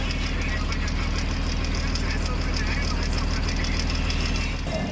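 A loaded sand truck idles at a weighbridge, a steady low diesel rumble holding evenly throughout with continuous close engine noise.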